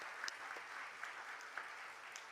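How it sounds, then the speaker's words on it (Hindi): A church congregation claps in steady, continuous applause, moderately faint and even throughout with no voices over it. "आइए अपना धन्यवाद तालियों को बजाते हुए दें।"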